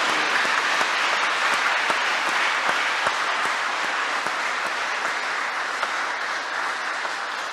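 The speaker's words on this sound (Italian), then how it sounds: "Benediciamo Gesù con un bel applauso" A church congregation at an Italian Mass applauds, with steady, dense clapping from many hands filling the space and continuing evenly for several seconds.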